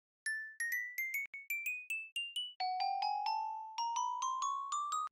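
Minecraft note block over a gold block producing a bell tone: two ascending runs of clear, ringing chime notes, the first high and spaced, the second lower and faster, each note bright with a short shimmering decay.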